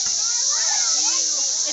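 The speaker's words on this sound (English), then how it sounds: "the cicadas are very loud and disgusting" Loud cicadas outdoors at a school field day make a constant high, piercing buzz, with a voice and faint chatter beneath it.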